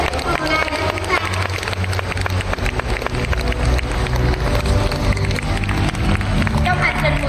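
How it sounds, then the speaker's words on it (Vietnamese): A live seminar audience gives sustained applause at a Herbalife event, a dense steady wash of many hands clapping mixed with crowd noise that fills the whole stretch without letting up. "Hãy vỗ một tràng pháo tay thật là dài và dồi dã dành cho người đã giới thiệu Herbalife cho chúng ta"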